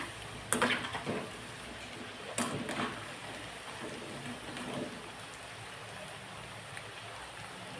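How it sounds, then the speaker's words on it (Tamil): Rain falls steadily outdoors as a continuous wash of patter, with a few louder bursts of splashing drops standing out early on and no voices. "எங்கள் ஊரில் மழை பெய்யுது நல்லா"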